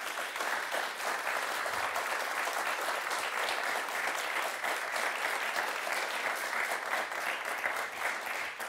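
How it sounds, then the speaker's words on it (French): Studio audience at a 25th-anniversary special of the French game show Motus breaking into sustained applause, a dense, even roar of clapping that holds steady for several seconds. "Et je vous demande de vous applaudir."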